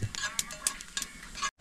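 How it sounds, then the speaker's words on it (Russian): Onions frying in a pan in a home kitchen, with crackly sizzling and clinks of stirring utensils for over a second before a brief drop to near silence. "Вот лук жарится."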